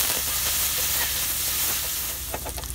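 Shrimp stir-frying in a hot pan with pounded chili and garlic: a loud, steady sizzle fills the whole stretch, with a few sharp utensil scrapes and clicks toward the end.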